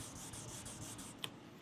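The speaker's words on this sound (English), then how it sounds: "There's such a difference in sanding with an acrylic versus soft back padding." Sanding a car's clear coat with 800 grit sandpaper on an acrylic backing pad, a steady soft rubbing with quick repeated strokes, close and fairly quiet, with a couple of brief scrapes near the end.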